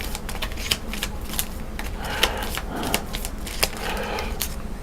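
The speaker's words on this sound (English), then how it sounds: "So now that we have that set up, we'll reshuffle the alien deck." An alien card deck from a board game being shuffled by hand, a steady run of quick riffling clicks and flutters, close and fairly loud without talking.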